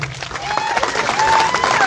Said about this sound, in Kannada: ಜೋರಾಗಿ ಚಪ್ಪಾಳೆಯನ್ನು ಬಾರಿಸ್ರಿ